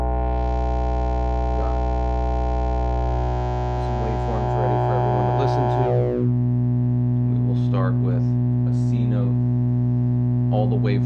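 A Roman's 25S analog complex oscillator, a Buchla 259/261E clone module, drones as a steady harmonic-rich tone. Its timbre shifts partway through as the higher overtones thin out and then flicker back, over a constant low hum.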